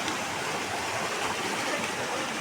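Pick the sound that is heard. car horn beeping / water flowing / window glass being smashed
water flowing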